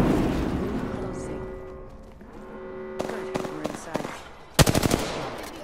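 Video game gunfire crackles in rapid automatic bursts, scattered at first and then a loud, dense volley near the end, over a rumbling background hum.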